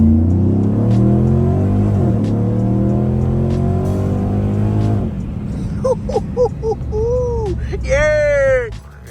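A Jeep with a 6.1 engine and a Borla exhaust drones steadily as it drives, its pitch sweeping up through the gears before the engine note fades. Voices then call out loudly and excitedly over the engine.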